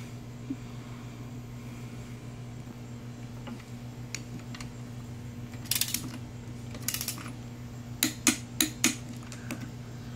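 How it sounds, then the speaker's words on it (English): Ratchet clicking as bolts are torqued down on a 2013-2015 Chevrolet Malibu LT 2.5L engine, a few short bursts of sharp metallic ticks over a steady low shop hum, near and moderately loud. "Alright, so we're just torquing these three down."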